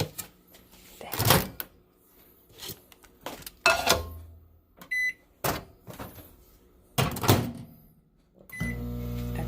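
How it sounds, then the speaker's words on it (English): A microwave hums with intermittent clunks and bangs, a few beeps, and a louder whirring at the end. "let's put this in our microwave for a minute."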